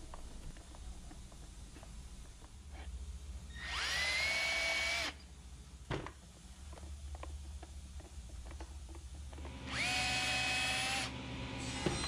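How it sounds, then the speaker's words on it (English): A cordless drill with a self-centering bit bores pilot holes for hinge screws on a small wooden keepsake box, two short high whirring bursts about six seconds apart, close and clear over quiet shop background. "I use a self-centering drill bit to drill pilot holes for the hinge screws."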